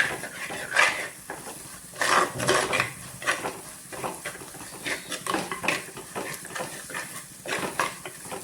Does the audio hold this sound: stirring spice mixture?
yes